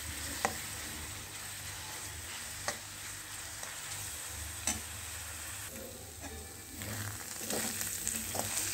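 Bottle gourd sizzles steadily in about half a bowl of ghee for a halwa, a soft continuous frying hiss broken every couple of seconds by light clicks and taps from stirring.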